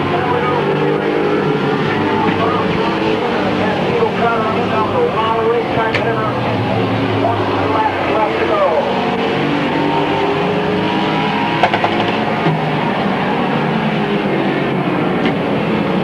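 Race cars at Midvale Speedway roar past on the final lap, engines rising and falling as the field sweeps by, with a track announcer talking over the din.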